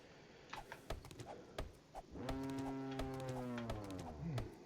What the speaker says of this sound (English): Big old cow there.